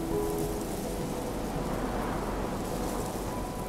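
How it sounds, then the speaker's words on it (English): Heavy rain and gusting storm winds pour down steadily around a barn owl nest during a nationwide storm, a loud, dense wash of noise that stays constant throughout with no voices. "Strong winds, heavy rain, and snowstorms sweep across the country."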